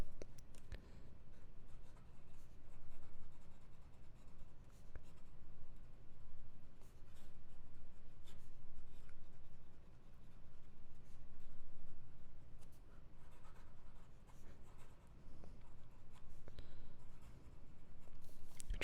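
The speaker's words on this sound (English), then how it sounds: "Try fast writing." Scribo Piuma fountain pen with an extra fine flex nib writing fast on paper, a close, steady scratching with small ticks and strokes running continuously for the whole stretch, no voice over it.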